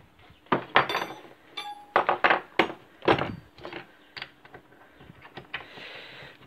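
A bolt on a blue bicycle is tightened with a wrench and extension bar, giving a series of close metallic clinks and knocks in uneven bursts, quiet between strikes, with no talking.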